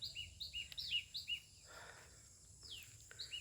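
House sparrows chirping outdoors in a rainy, green setting: many short bright chirps repeat in a quick scattered chorus, fairly faint and distant over a low background hum, with no talking.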